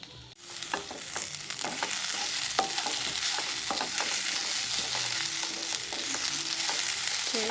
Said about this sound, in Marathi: सोय आनी लसूण आनी पियाव भाजतो